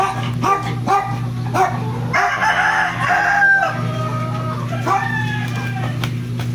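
White Kelso rooster crowing in a backyard, one long crow in the middle among other clucks and barking dogs, over a steady low hum.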